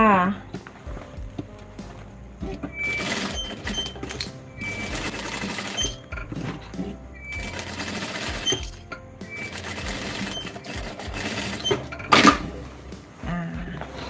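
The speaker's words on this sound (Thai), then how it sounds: "วันนี้เรามาเย็บขอบ ขอบกระโปรงหางปลา" A sewing machine stitches the hem of a mermaid skirt in steady rattling runs, stopping and restarting several times, with a voice talking intermittently and occasional fabric handling.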